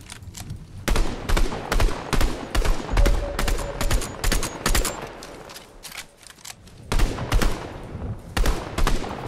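Rapid gunfire in Fortnite Chapter 5 zero build ranked solo play: loud, close bursts of automatic shots in a fast repeating rhythm, with brief pauses between volleys.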